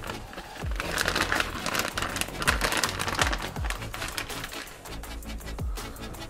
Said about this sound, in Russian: Берем вакуумные пакеты, будем готовить курицу в суведе.